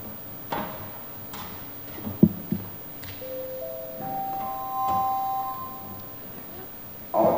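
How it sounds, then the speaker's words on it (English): A bell rung to open a community consultation meeting gives a few faint tones that ring out and fade in a quiet room, with soft knocks and handling noise around it. "That was the bell of introduction, I guess."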